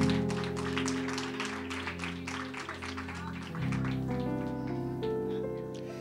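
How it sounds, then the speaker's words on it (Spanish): A church congregation in a worship service stands and gives a round of applause, dense continuous clapping with scattered claps over organ or keyboard chords that shift midway. "Póngase de pie y den un aplauso al Señor."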